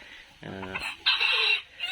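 Farm chickens calling close by, a rooster-like crow followed by loud clucking and squawks in a short burst, with hens audible in the background.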